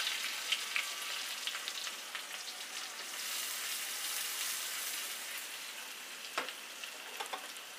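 Four tablespoons of chopped onion sizzle in hot oil for an achari daal, a steady, close frying crackle with a few sharper pops and spatters near the end.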